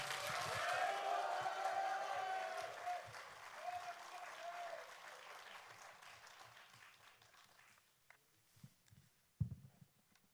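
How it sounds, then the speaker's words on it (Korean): Audience applause greets a candidate at a Democratic Party joint campaign rally in Iksan, loud and sustained at first, then thinning out to scattered claps and a few knocks as it fades. "큰 박수로 맞이해 주시기 바랍니다"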